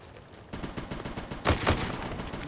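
Machine gun fire in a video game comes as rapid, continuous bursts of shots, with a louder double blast near the middle, close and dense.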